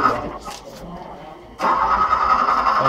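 Car engine cranking in a radio-play sound effect, a steady close whirring churn that starts abruptly partway through and continues without catching, after a quieter stretch with faint voices.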